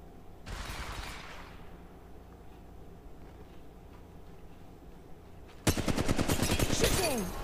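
Gunfire in Apex Legends Mobile during a ranked match at Kings Canyon: a short volley of shots, a quieter stretch of background game noise, then a loud, sustained rapid-fire burst close up.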